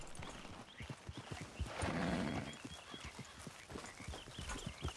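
Horse hooves clip-clop steadily in Red Dead Redemption 2, a rapid rhythmic trot that swells briefly around a horse's snort or whinny, heard faint under game ambience.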